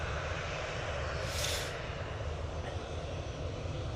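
A Ryanair airliner passes at Manchester Airport as a steady, loud engine roar with a low rumble, swelling briefly in the middle before settling back into a continuous drone.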